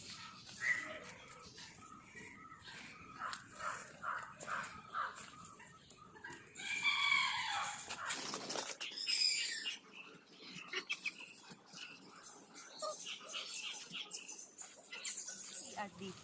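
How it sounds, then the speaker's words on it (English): Birds calling in a school park where rabbits are also kept, including rooster-like crowing and clucking, come in scattered bursts at moderate loudness over steady background noise for about sixteen seconds. "See at the rabbits and birds here."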